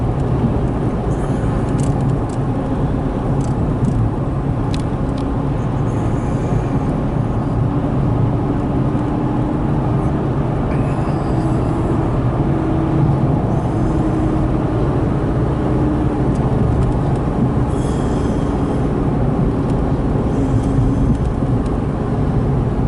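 Car driving along a rural road toward town, a continuous low, steady rumble of engine and tyre noise that stays even and close for the whole stretch, with no talk.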